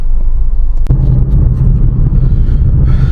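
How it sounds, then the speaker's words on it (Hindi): Heavy traffic on the DND Flyway in Delhi heard from inside a car, a loud steady low rumble of engines and road noise with a brief thump partway through. "तो ये रहा D&D दिल्ली का मशहूर ट्रैफिक."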